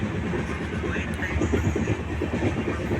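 A passenger train runs through the night, its wheels giving a steady rumbling clatter on the rails heard from inside the carriage, continuous and fairly loud.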